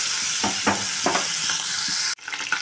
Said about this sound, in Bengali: এখন চিংড়ি মাছগুলোকে আমি ভেজে নেব